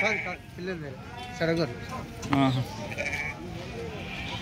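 Telangana sheep bleating at a weekly goat market in Warangal, several short wavering bleats in a row amid a busy outdoor crowd, with people talking nearby.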